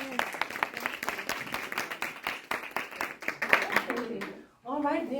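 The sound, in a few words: audience applause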